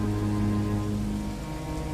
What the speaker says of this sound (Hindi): फिर से बारिश बढ़ जाती है